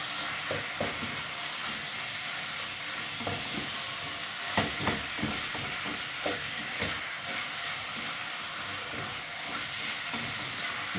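Ground beef with tomato sauce sizzles in a pan while being stirred, with a steady frying hiss and close scraping clicks of the utensil at irregular intervals.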